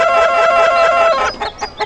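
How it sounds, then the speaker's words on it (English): Chickens in the video game Ahriman's Prophecy give a loud, drawn-out crowing cluck followed by three short sharp clucks, close and clear with nothing else underneath. "you want to harass these chickens"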